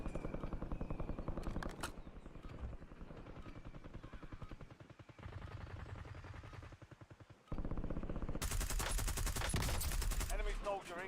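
Video game gunfire, rapid rhythmic bursts of automatic shooting in repeated volleys, loud and close, with a louder sustained burst toward the end and a voice speaking in between.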